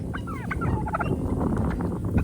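Guinea fowl and other poultry call excitedly at a chicken coop, a dense, continuous chorus of overlapping gobbling squawks and chattering cries, close and loud throughout.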